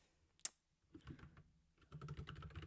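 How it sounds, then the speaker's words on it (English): Quiet, rapid clicking of a mechanical keyboard being typed on, with one sharp click early and then steady bursts of keystrokes. "I've got my clicky keyboard"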